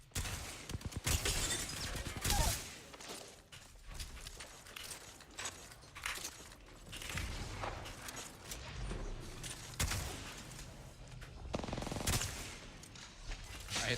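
Rapid bursts of automatic gunfire in a first-person shooter video game, loud sharp volleys and single shots scattered throughout with brief lulls, mixed with faint game effects and no clear talk.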